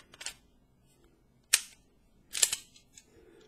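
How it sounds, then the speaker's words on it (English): Magazine inserted into a Beretta PX4 Storm compact pistol, heard as a few sharp, close metallic clicks and clacks spaced apart, with a double click near the end and quiet gaps between them. "Let me go ahead and put my magazine back in here."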